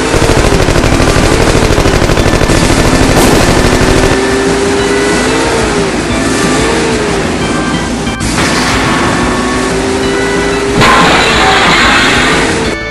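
Rapid machine gun fire rattles continuously in a Lego race, layered with revving car engines and broadband noise, loud and steady throughout with a couple of sharper bursts.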